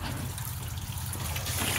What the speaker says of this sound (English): The water's overflowing.